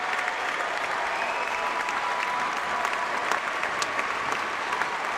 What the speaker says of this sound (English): a standing ovation for the senior from Waterloo